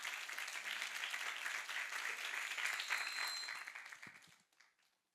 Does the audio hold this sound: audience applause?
yes